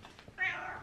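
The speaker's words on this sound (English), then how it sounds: "She's meowing." A cat lets out a single drawn-out meow, close and fairly loud, after a moment of quiet rustling.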